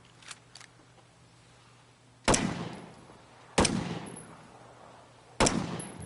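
Three sharp gunshots ring out during a basic combat training course demonstration, spaced a second or two apart, each loud and close with a short echoing tail, after a couple of faint clicks.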